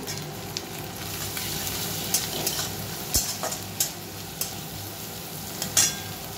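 Chopped tomato with ginger and ground black pepper sizzles steadily in a pan for an egg tarka, with a close hiss broken by occasional sharp knocks of a utensil against the pan.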